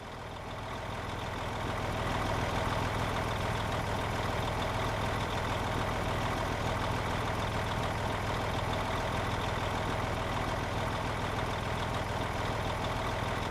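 Big truck engines idling on a farm in a farming video game, a steady low rumbling drone that fades in and holds unbroken throughout.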